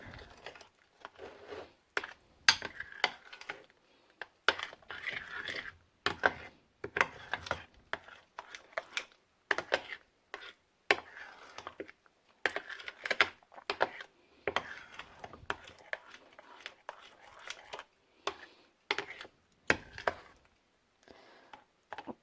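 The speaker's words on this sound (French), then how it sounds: "Maintenant, nous mélangeons." Tzatziki stirred in a bowl with a utensil, a steady run of quiet, close clicking and scraping strokes in an irregular rhythm, with no talking.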